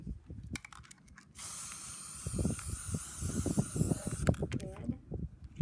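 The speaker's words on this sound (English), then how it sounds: "Red spray paint. This is just regular household red spray paint" Regular household red spray paint hisses from an aerosol can in a steady spray lasting about three seconds, coating an eggshell pencil holder, with clicks and handling knocks before and after and a voice speaking beneath.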